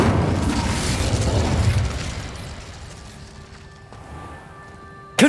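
An Incendio fire spell in Hogwarts Legacy bursts out loud and full, then roars and slowly fades into a quieter hiss over a few seconds before a sharp new burst cuts in at the very end.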